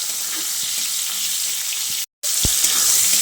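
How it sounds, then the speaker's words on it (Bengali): Pieces of pointed gourd (potol) fry lightly in hot oil, giving a steady, close sizzle with a brief dropout partway through and no voices. "পটল আমি খুব বেশি কড়া করে ভাজছি না, এরকম একটু হালকা করে ভেজে নিয়েছি।"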